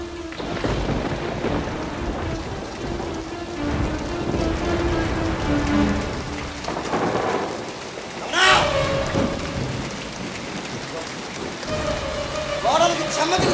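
Heavy rain pours steadily over a stage drama scene, with thunder cracks breaking through near the middle and end, and a faint voice briefly audible under the downpour.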